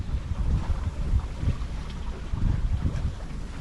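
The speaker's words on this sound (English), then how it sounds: "I cut the engine just a little bit outside of Angel's Gate, and I've been sailing ever since." Wind rushes and water churns steadily around a small sailboat under sail with its engine cut outside Angel's Gate, a continuous close, breezy wash with a low rumble and no voices.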